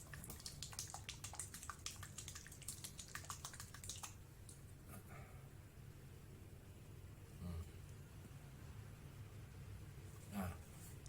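A small closed container of white fish bait essence being shaken, giving a rapid run of close rattling and sloshing clicks for about four seconds, then a few scattered knocks and taps over a steady low background hum.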